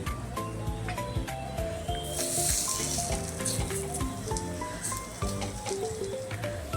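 Chicken keema cutlets fry on a tawa over a low gas flame, a soft continuous sizzle and crackle heard close up, with a brief swell of hiss partway through and a few faint clicks.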